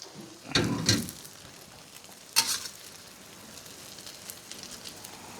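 A flipped Thai omelet (khai jiao) sizzles in hot oil, with two loud crackling bursts as the egg lands, then a softer steady fry underneath.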